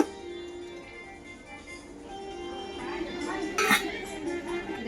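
Stainless steel triply saucepans, full-steel pans sold in sizes 18 to 32 and shown in a shop, are handled with light metallic clinks and a brief louder clatter near the end. Faint talk sits underneath.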